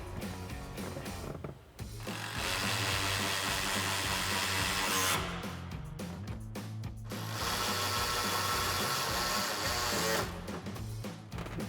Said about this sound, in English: grab our 10mm socket on our ratchet